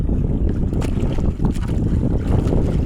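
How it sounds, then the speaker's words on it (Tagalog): Strong waves slap and churn steadily against a small rocking boat hull, loud and close, with wind buffeting the microphone throughout. "Malakas ang alon."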